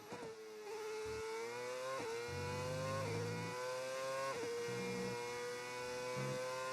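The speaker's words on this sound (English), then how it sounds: "The gear shifts on Ocon's car sounds so strange. Sounds very grunty." A Formula 1 car in a racing game at Belgium, Ocon's car, holds a steady high engine whine broken by several abrupt gear shifts that each drop the pitch with a grunty stab before it climbs again.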